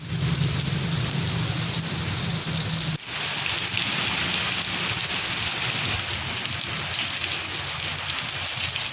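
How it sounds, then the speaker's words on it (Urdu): Thunderstorm rain pouring down in Punjab towns such as Sialkot and Okara, a loud continuous wash of heavy rain close by, with low rumbling underneath suggesting thunder and no voices. "سیالکوٹ، پاک پتن، وہاڑی، بورے والا، دیالپور، اوکاڑا، ٹوبا ٹیک سنگھ اور شجاباد میں بادل خوب گرجے برسے"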